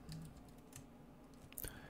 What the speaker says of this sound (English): start typing something like this